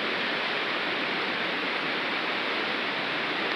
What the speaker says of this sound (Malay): Ini sungai-sungai.